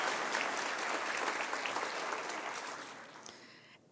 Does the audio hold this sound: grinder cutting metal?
no